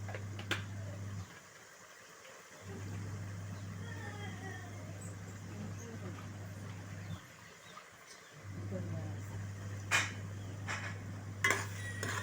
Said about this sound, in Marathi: आता ढवळून घ्यायचं आणि कांद्याला चांगलं शिजून द्यायचं आहे